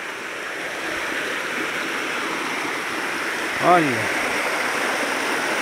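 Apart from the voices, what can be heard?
small waterfall on Ribeirão dos Cágados stream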